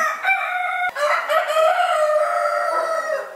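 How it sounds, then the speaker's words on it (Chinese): A rooster crows loudly and close, a long drawn-out call with a brief break partway, amid a flock of chickens. "不知道他们会不会觉得鸡群很吵呢？"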